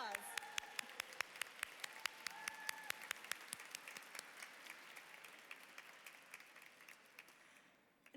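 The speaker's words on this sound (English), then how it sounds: "so we can give you a round of applause." Gala audience applauds in a large hall, a dense patter of many hands with sharper individual claps standing out, loudest at first and gradually thinning and fading toward the end.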